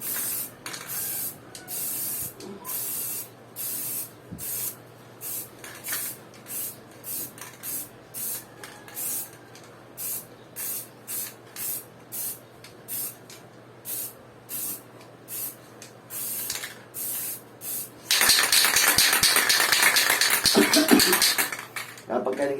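Short repeated bursts of Bosny spray paint hissing from a can in a steady rhythm while painting motorcycle mags, then one long continuous spray near the end, loud and close.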